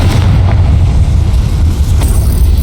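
A loud, sustained magical blast from the Confringo spell in Hogwarts Legacy, a deep booming explosion that rumbles continuously with no talk over it.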